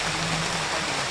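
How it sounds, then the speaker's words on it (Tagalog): Rain falling steadily outdoors, heard from under shelter during a hike: an even, wash-like hiss with no voices. "So ito na nga tol, naabutan kami ng ulan."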